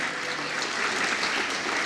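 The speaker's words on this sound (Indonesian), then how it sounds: "Tepuk tangan nih buat kalian orang ini." Steady applause from an audience at a leadership seminar, a dense, even wash of clapping that holds at moderate level for the full two seconds.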